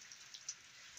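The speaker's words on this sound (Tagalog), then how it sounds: "Non-stop ang ang ulan." Constant rain falls on a cold, rainy day in an organic vegetable garden, a steady close hiss flecked with a few sharper drop taps.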